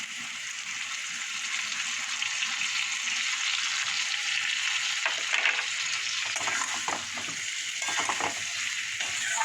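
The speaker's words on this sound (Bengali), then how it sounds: "মশলাটা দিয়ে এবার কষাবো" Spice paste mixed with a little water is fried and stirred with fried potatoes in a pan, giving a steady close sizzle with scraping stirs breaking through in the second half.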